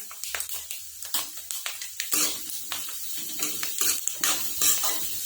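Salt, turmeric and chilli are stirred into a fenugreek seed pickle, with rapid irregular spoon scrapes and clinks against the pot over a light sizzle, close and busy throughout.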